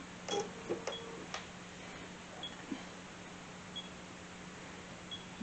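Bernina sewing machine stitching a quilt label with a number 15 presser foot and 0mm stitch plate: soft, faint mechanical ticking with a few sharper clicks early on over a steady low hum.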